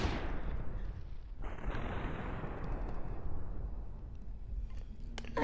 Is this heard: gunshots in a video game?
yes